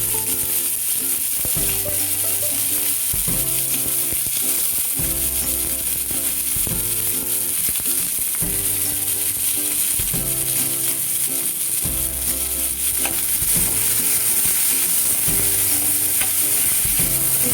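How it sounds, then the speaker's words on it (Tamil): Mustard seeds and urad dal fry in hot oil, a constant loud sizzle and crackle with rhythmic metallic stirring scrapes repeating every second or so and no speech. "எண்ணெயில் கடுகு மட்டும் போட்டிருக்கேன், கடுகு இருந்து பொரிக்கட்டும்"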